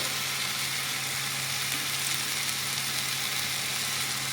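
A masala of tomato, turmeric, cumin and coriander powder fries in a pan, giving a steady, close, even sizzle with a faint low hum underneath and no breaks.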